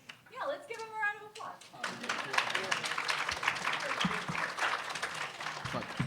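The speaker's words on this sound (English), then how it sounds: "let's give them a round of" An audience at a summer nanoscience lab's final student presentations breaks into close, dense clapping that builds and carries on steadily, with voices and a child's speech audible under the applause at the start.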